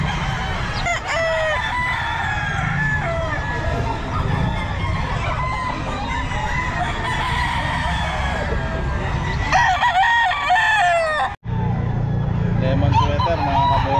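Roosters crow repeatedly and chickens cluck at the Bocaue pet market, a dense, continuous din of fowl close by, with human voices mixed into the crowd of birds.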